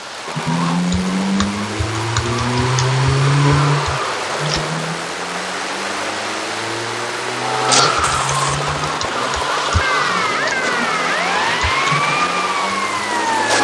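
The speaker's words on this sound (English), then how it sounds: "ambulance" Ambulance siren in Grand Theft Auto Vice City, heard over steady rain and street traffic; the wailing, rising-and-falling tone comes in near the end, fairly close, after a stretch of rumbling vehicles and rainfall.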